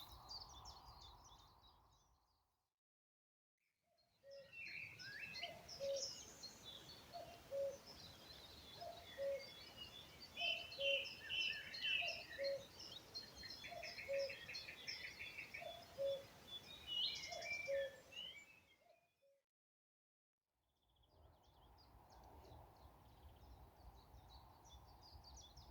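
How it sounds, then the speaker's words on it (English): Songbirds at a former colliery site, with chiffchaff, willow warbler and linnet singing: a repeated rhythmic two-note call and scattered high chirps and trills, fairly faint and distant over soft background hiss, with gaps of near silence. "Once again, the sound of chiff-chaffs has followed me. But there are some willow warblers here, and you may all catch a song of the linnet."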